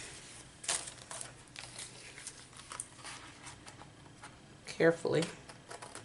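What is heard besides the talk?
cutting out tea box cardboard tags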